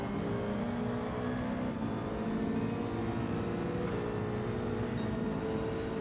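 A pack of racing cars in Gran Turismo 7 drives together, engines droning steadily with layered tones and a faint shift in pitch, continuous and fairly loud.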